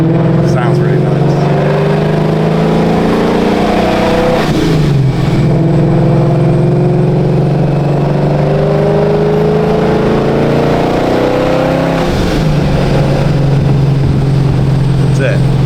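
The engine of a procharged 900 whp Ford Mustang S650 roars loud and close under sustained revving, with its pitch climbing and dropping across several pulls and the loud gears whining through the engine note.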